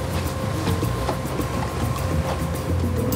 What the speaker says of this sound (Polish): luksusowa motorówka